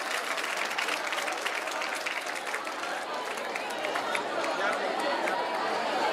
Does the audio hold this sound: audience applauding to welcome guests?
yes